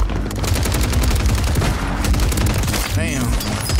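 Rapid automatic gunfire in Warzone, loud and close, a continuous stream of shots with a few heavier thuds, and a voice briefly over it.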